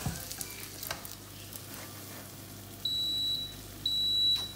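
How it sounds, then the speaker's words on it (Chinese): A smoke alarm sounds two piercing, sustained electronic beeps over the low crackle of frying food on a pan, close by with no talking. "现在警报声音响。"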